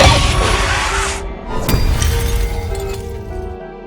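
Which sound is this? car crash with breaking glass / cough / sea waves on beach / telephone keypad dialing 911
car crash with breaking glass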